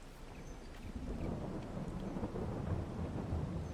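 Steady storm rumble with rolling thunder and rain in the Farming Simulator game, on the Purbeck Valley UK farm map, a low continuous roar that swells slightly louder and stays constant throughout, with no voices.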